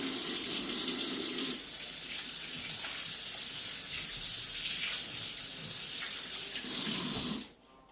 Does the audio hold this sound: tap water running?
yes